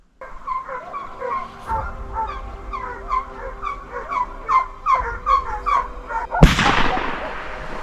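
Hunting dogs bark repeatedly at a moderate distance during a jackal and wolf hunt near Tetritskaro, Georgia. A loud gunshot bursts out near the end.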